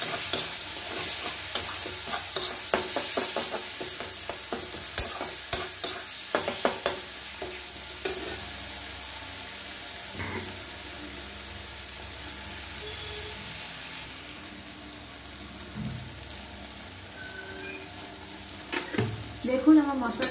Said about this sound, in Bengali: ভালো করে মশলাটাই কষিয়ে নেব।